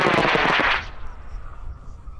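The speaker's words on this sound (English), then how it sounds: "going off pad number three out there, the copper colored rocket in 5, 4, 3, 2, 1" An 8-inch Goblin high power rocket lifts off on four J450 motors at a launch site. A loud, close, crackling roar lasts under a second, then a fainter rumble trails off as it climbs away.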